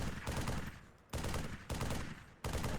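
Bursts of rapid automatic gunfire in an Xbox 360 video game, dense and loud, coming in three sustained volleys with short gaps between them.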